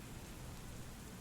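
Steady rain falling in a dark fantasy setting, a dense even hiss with no distinct footsteps in this short stretch.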